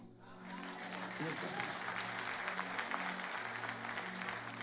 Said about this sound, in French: Elkana mérite un applaudissement.